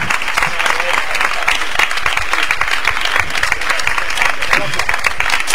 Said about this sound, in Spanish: Vamos a recibirlo también con un fortísimo aplauso.